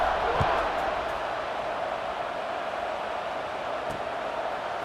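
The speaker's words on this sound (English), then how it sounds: "this crowd is buzzing after that last score" A steady roar of a large stadium crowd in an American football video game, a dense wash of distant cheering and murmur with no distinct voices, holding level throughout.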